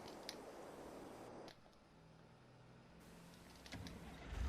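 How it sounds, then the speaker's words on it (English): A car driving in the farming game Farming Simulator 22, a low, steady engine hum running under the game's other sounds, with no talk. "I can hear a car."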